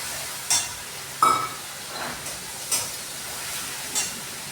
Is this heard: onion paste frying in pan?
yes